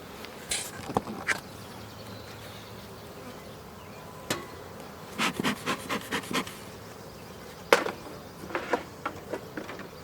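Bees buzzing around beehives being worked outdoors in early morning, with sharp knocks and scraping of wooden hive boxes and frames over a steady low hum.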